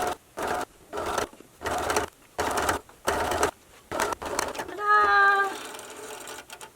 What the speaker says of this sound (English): so now we are going to sew them. Oops, if I turn the machine on.